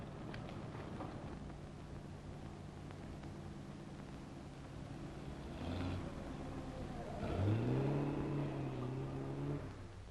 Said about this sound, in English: That looks like Linda's car